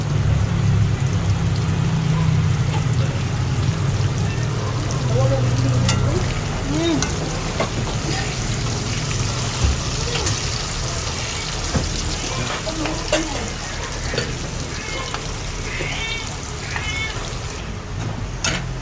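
Onion sautés in a hot pan for Filipino pinakbet, a loud steady sizzle and fry with some stirring scrapes, fading a little later on while faint sounds continue.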